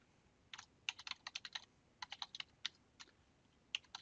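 Email address being typed on a computer keyboard during a Revit 2014 sign-in: quick, irregular bursts of crisp key clicks, close and fairly quiet, with short pauses between runs and no talking.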